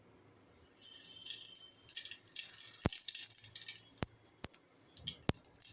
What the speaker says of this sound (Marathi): मोहरी चांगली तडतडली